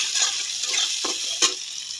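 Spatula stirring whole cumin, bay leaf, dried chillies and chopped tomato in a hot pan, a steady sizzle with two brief scraping sweeps standing out, close and alone.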